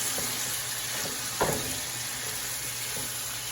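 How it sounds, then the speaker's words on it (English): Ingredients frying in a pan with a steady close sizzle, a few stirring scrapes rising above it, no voices. "So we add all that to the pan. And we're going to stir it up."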